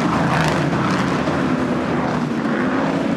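Race car engines roar and accelerate continuously during a Long Beach street race, a dense, loud, steady engine drone with no gaps.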